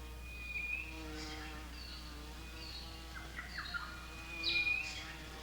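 Insects buzzing and humming in a regrown forest in Australia's Gagudju country, a steady faint drone with occasional brief bird chirps and whistles rising over it, no speech.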